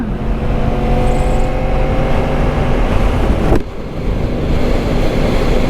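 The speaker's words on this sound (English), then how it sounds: "just warming the engine up nicely" Yamaha MT-10 motorcycle engine warming up while riding along a country road, a steady loud droning hum with a constant low tone and wind rush, briefly dipping once before resuming.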